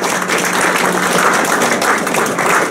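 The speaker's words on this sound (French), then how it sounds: "je pense que pour cela on peut l'applaudir" Audience applause at the inauguration of the Square Thomas Becket in Avranches, a steady, dense wash of clapping that holds evenly for about three seconds with no voices over it.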